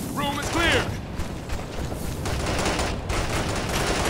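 Bursts of gunfire rattle through a military video game firefight, with rapid shots and impacts over a noisy battlefield bed while voices shout in the mix.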